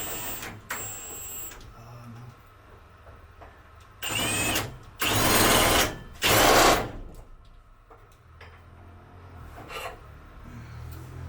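A power drill whirs in three loud, sustained bursts of a few seconds each, separated by quieter mechanical rattling and clicks, during a DIY job at an orchard property in France.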